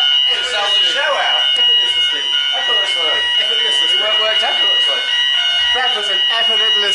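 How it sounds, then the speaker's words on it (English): A shrill, steady electronic fire alarm rings continuously and loudly on a tour bus while several people talk and laugh over it. "we've set the fire alarm off"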